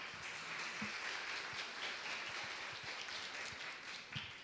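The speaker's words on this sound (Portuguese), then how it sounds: "Marivone, por gentileza, as palmas." Faint, scattered applause from a small audience at a talk on depression and hope, soft uneven claps forming a thin patter heard from a distance.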